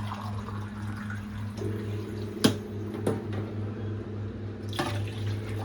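Water is poured into a pan while making tea, a soft liquid trickle with a few sharp clinks over a steady low hum, close by and without talk.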